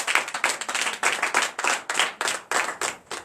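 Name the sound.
church congregation clapping in acclamation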